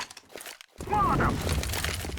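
A Molotov cocktail smashing in Counter-Strike, a sudden burst of breaking glass followed by a sustained roaring whoosh of flames, with players talking over it.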